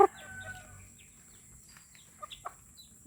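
A chicken gives a few faint clucks and soft calls in a quiet rural yard, with scattered brief chirps and rustling between them.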